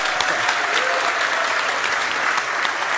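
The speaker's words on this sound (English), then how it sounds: "There's no applause after that?" A conference audience at a presentation on enterprise adoption of Algorand applauds, with dense, steady clapping that fills the whole stretch at an even level and has no talking over it.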